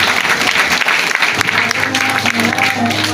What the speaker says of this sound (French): Le fondateur, est-ce qu'on peut l'acclamer très fort?